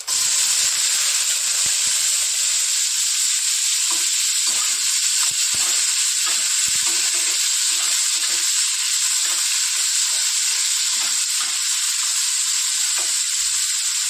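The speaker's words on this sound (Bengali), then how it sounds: "জিরে ফোড়ন দেবো, দিয়ে আর এই সবজিটা ঢেলে দেবো।" Beans, potato and carrot frying in oil with cumin, a constant bright sizzle close up with scattered stirring scrapes and clicks, no voices.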